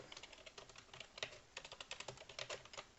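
Rapid, light keystrokes tap on a computer keyboard in quick uneven bursts, faint and close, with a short pause midway.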